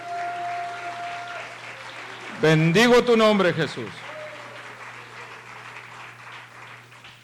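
Congregation at a church service applauds in a steady wash of clapping, heard under a voice that rises in a short burst of praise before the clapping carries on alone.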